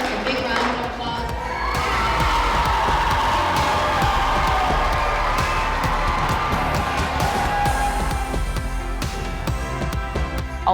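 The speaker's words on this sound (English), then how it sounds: "So let's hear a big round of applause." Audience applause and cheering at an event about school wellness culture, a steady dense wash of clapping and crowd noise with whoops, loud and sustained throughout, with some voices mixed in.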